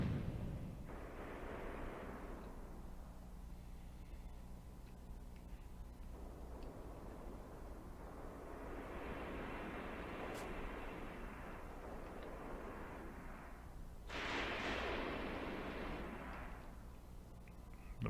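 Machine gun fire in the wartime tactics game Graviteam Tactics, heard as a steady, distant rattle and rumble of bursts swelling and fading over a low battlefield drone, with a sharper burst near the end.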